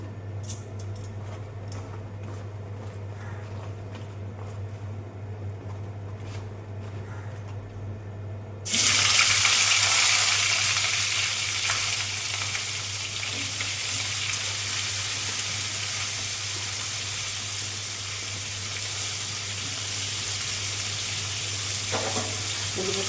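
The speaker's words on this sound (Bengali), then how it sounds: "ফুলকপিটা ভাজবো মাখিয়ে নিই" Cauliflower coated with salt and turmeric frying in a pan, starting as a faint hiss and then rising suddenly into a loud, steady sizzle that holds to the end, close up, with no talk.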